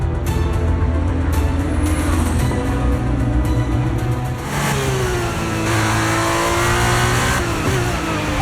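A Formula 1 race car in the F1 23 video game pulls out on fresh tyres, its engine rising through revs in a loud, continuous whine with shifting pitch and no talk.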